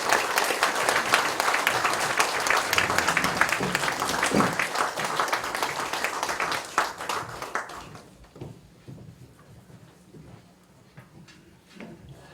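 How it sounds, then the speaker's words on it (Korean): An audience at a Korean church theology seminar applauds loudly with dense, sustained clapping that tapers to scattered claps. "박수 한번 크게."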